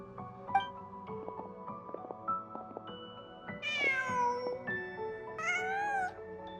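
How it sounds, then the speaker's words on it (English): A cat in the video game Genshin Impact meows twice, two clear drawn-out cries in the second half, over soft, sparse game music. "Just a cat."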